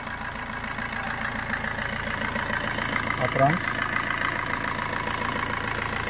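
A 2013 Maruti Suzuki Swift VDI diesel engine idles with a steady, even low rumble, heard close and continuous under someone talking.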